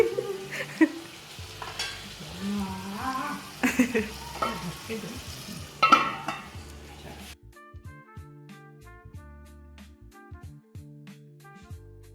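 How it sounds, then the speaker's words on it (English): Spoon stirring and scraping food in a clay pot over heat, with soft sizzling and irregular knocks for several seconds, then fading out as music takes over. "I've been entrusted the task of stirring this for some time while my mom makes chai."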